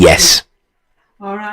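A single sharp sneeze bursts out at the start, followed by a short silence and then a person speaking.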